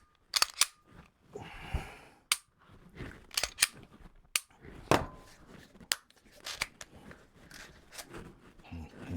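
A cheap air gun fired and cocked repeatedly: sharp, close snapping cracks at irregular intervals, mixed with mechanical clicks and handling noise, and a few quiet voice sounds in between.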